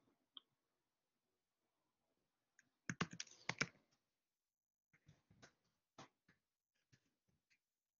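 Keys clack on a computer keyboard, starting with a few isolated taps, then a quick burst of close typing followed by scattered slower keystrokes in a quiet room, with nobody speaking.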